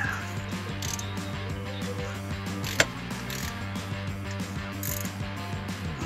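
Ratchet wrench snugging billet valve body bolts on a Ram 68RFE transmission, a steady run of fine mechanical clicks with one sharp louder snap partway through, close and alone without talk.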